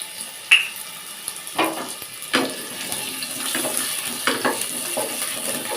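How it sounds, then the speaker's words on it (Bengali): Potatoes fry in a pressure cooker with whole spices for a green jackfruit curry, giving a soft steady sizzle broken by several sharp clinks and scrapes of a utensil against the pot. "প্রথমে আলুটাকে ভেজে নেব আলুটা ভাজতে ভাজতেই ফোড়নটাও এর সাথে দিতে থাকবো"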